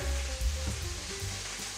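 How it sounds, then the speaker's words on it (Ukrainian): Shrimp warming in a frying pan for a shrimp and avocado salad, giving a soft, steady sizzle with faint crackles close by, quiet and continuous with no talk. "На цю сковорідку викладу креветки, щоб трішки підігрілися."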